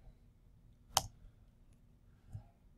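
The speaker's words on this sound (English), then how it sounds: "So I'm hitting E on my keyboard right now for extrude." A computer keyboard key pressed during 3D modeling in Autodesk Inventor: one sharp, close click, then a softer second tap about a second later, against quiet room tone.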